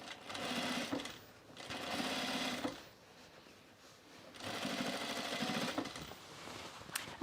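A sewing machine runs in two long bursts of steady, buzzing stitching while top stitching pants, with a quieter pause between them, close and clear.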